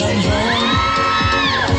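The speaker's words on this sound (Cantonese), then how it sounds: "大家俾啲掌聲佢哋好唔好啊？" A live audience on a stage show cheers and whoops loudly in a dense, continuous crowd roar with some shouting, filling the whole short moment.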